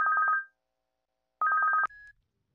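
An electronic telephone ring in a domestic scene from an Odia film sounds as two short bursts of rapid trilling beeps, separated by about a second of silence, with a fainter tone and soft click after the second burst.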